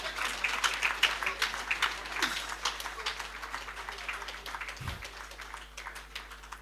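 Polite applause at an engineers' association presidential investiture, a soft, distant patter of clapping that swells briefly and then fades gradually.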